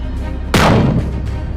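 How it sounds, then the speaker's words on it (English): A single heavy explosion from a strike by loitering munitions and Iskander missiles on a military training camp, a sudden loud blast at mid-clip followed by a brief rumbling decay over steady background noise. "Video shows Russian troops destroying a Ukrainian training camp near Simonovka."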